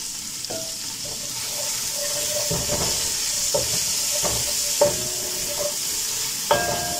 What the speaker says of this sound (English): So after like 10 seconds of cooking my garlic, I can then put in my spring onion.